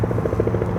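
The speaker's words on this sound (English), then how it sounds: "Another helicopter tour?" A tour helicopter flies overhead, its rotor thumping in a steady, fast pulse over a loud, constant low rumble.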